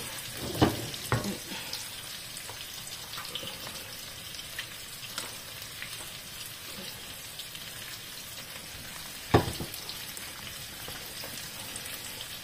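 Food sizzles steadily in a pan on a home stove as it is quickly cooked and stirred, with a soft continuous crackle and a few sharper clinks of stirring.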